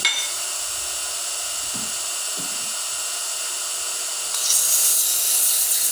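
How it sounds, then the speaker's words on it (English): A small turned wooden ornament being lightly sanded on a spinning lathe, a steady whirring motor hum with faint brushing contact that turns brighter and rougher near the end, with no talking. "I'm going to sand lightly."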